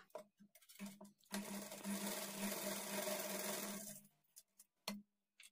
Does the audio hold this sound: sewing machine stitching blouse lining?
yes